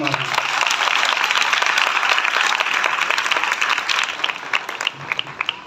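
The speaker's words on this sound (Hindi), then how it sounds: "हम खुदा के लिए जोरदार ताली मारें।" A congregation at a church service claps loudly and steadily for about five seconds, a dense wash of applause that thins near the end into a few scattered claps.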